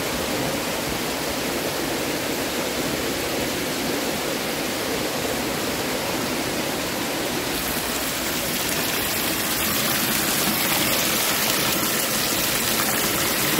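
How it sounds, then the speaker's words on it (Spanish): Water pours steadily down rocks at a little-known river spring in Mercedes Umaña, Usulután, a continuous close rushing wash that swells slightly louder toward the end, with no voices. "De allá de la roca está bajando el agua."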